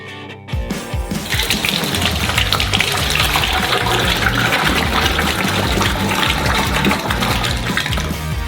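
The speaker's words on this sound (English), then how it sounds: "Pour half of it into another saucepan." A steady, loud pouring rush of hot caramel filling a saucepan, continuous and close, after a brief quiet start.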